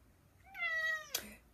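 A pet cat gives a single clear, drawn-out meow at close range in a quiet room. A short click follows just after it.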